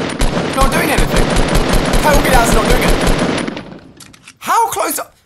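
Rapid automatic gunfire from the Fortnite: Battle Royale video game rattles loudly and continuously for several seconds. A voice follows after the shooting stops.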